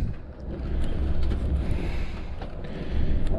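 Steady low road rumble and wind noise inside a 2003 National RV Seabreeze LX Class A motorhome on a Duraframe chassis during a test drive, a continuous drone with faint rattles and no talk.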